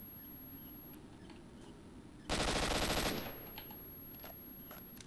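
A loud burst of automatic gunfire in the video game S.T.A.L.K.E.R.: Shadow of Chernobyl, roughly a second of rapid shots breaking out of a quiet hum, then fading back to low ambience.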